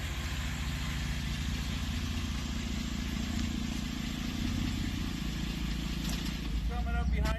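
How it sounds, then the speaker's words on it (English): A brand new Herbie car rolls along the road, its steady mid-pitched engine hum and road rumble continuous and fairly close throughout, with a few faint clicks near the end. "And Bill's driving."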